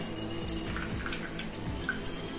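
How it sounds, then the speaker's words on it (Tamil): A glass of water is poured through a strainer into a mixer jar while drumstick leaf soup is made. A soft, steady trickle plays close by with a few faint clinks, and no one speaks. "இப்போ நான் எகைன் ஒரு 1 கிளாஸ் தண்ணி ஊத்துறேன்"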